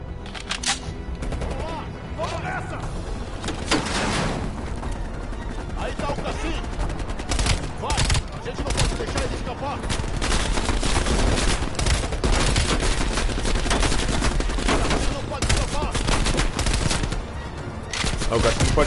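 Rapid gunfire from the video game Call of Duty Cold War crackles in dense bursts and sustained automatic volleys, loud and close, with gameplay effects and a player talking over parts of it.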